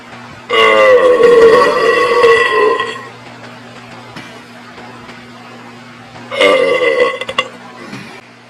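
Two loud, drawn-out burps after a swig of Dry Dock Brewing sour apricot beer: a long throaty belch of about two and a half seconds, a pause, then a shorter second one, both close to the mic.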